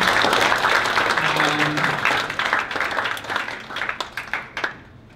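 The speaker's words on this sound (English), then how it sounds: "Let's give a big round of applause to the professor." An audience at an academic talk on cross-cultural interactions applauds the professor, full steady clapping from many people that gradually thins into scattered separate claps near the end.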